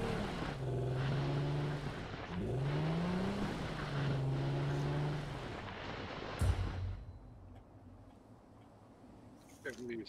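Vehicle engine in the game Ring of Elysium, revving in rising and falling sweeps as it turns around, loud then cutting off abruptly with a thump, quieter ambience after.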